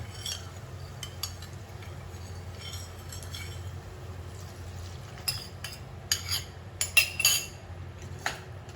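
Spoon stirring curry powder, sauces and water together for Kam Heong chicken, soft scraping and sporadic metallic clinks against a pot over a low steady hum, growing busier toward the end.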